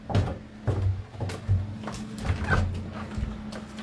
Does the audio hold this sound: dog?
yes